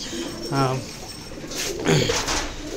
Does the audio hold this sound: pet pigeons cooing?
yes